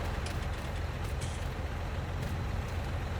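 Ten-wheel trucks and a tractor-trailer head driving in Farming Simulator 19, a steady low engine rumble with brief hissing bursts like air brakes, continuous and moderately loud with no talk.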